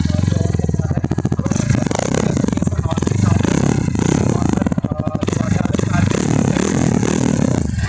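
A 2024 Bajaj Pulsar NS160 motorcycle idles with its stock underbelly exhaust giving a rapid, rough putter, loud and close, with a bit of speech over it and some clattering.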